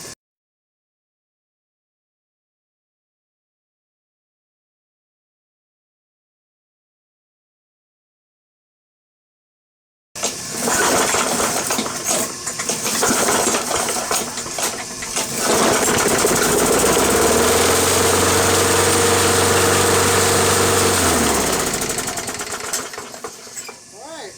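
An MTD 21-inch push mower engine, freshly repaired, starts after a stretch of silence and runs loud and close with a rough, steady drone that dips and wavers in pitch before being shut off.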